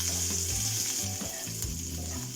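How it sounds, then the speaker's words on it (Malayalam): Mustard seeds splutter in hot oil alongside urad dal and cumin for a tempering, a steady close sizzle with scattered sharp pops throughout and no talking. "ഇതിൽ കിടന്ന് കടുക് പൊട്ടണമുണ്ട് കേട്ടോ"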